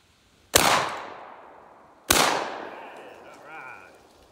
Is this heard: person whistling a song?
no